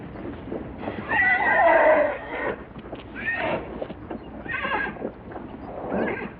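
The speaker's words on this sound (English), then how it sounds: "The wild horse can usually afford only one trip a day to the water hole, where they drink their fill of the precious liquid." Wild horses near a water hole give loud, close neighs and whinnies in several bursts, while hooves clip-clop softly beneath them.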